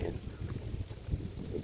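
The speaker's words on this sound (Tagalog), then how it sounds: "Malamig na dito. Mahangin kasi." Wind buffets the microphone at a beach park, a steady low rumble with gusty swells throughout, and a voice faintly under it.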